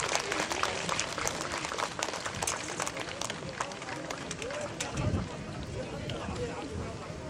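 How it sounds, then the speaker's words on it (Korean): Applause from attendees at an outdoor unveiling ceremony for a Buddhist monk's stupa and memorial stone, a continuous wash of clapping with a few nearby thumps, moderately distant, with no voice over it. "큰 박수 쳐주시기 바랍니다"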